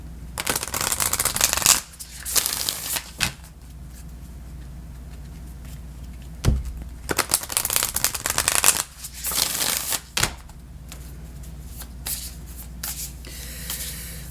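Moonology Manifestations Oracle cards being shuffled in bursts of close, crisp riffling and flapping, with quiet pauses between the runs and no talking.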